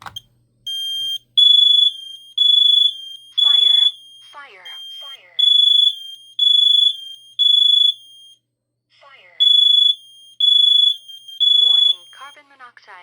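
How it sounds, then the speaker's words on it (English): A Kidde KN-COP-IC smoke and carbon monoxide alarm under test sounds loud, close, shrill beeps in evenly spaced bursts of three, with a recorded voice announcement between the bursts. "First alarm we're going to test is the Kidde KN-COP-IC. So, this is going to be loud."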